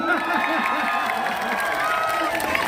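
A concert crowd gives a dense, continuous wash of applause and cheering, with shouting voices mixed throughout the roar.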